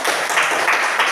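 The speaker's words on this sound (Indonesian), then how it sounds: "Siapa tepuk tangan untuk kelompok." Classmates in a Year 7 school classroom clap for a student group, a steady, dense patter of hands lasting about a second at moderate loudness, with no talk over it.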